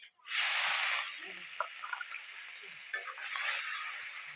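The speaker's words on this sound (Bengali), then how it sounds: "দিয়ে দিচ্ছি গোটা মশলাগুলো তেল গরম হয়ে গেছে" A sudden loud hiss as whole spices hit hot oil for chicken kosha, then settling into a softer continuous sizzle with a few faint clinks and brief voice sounds.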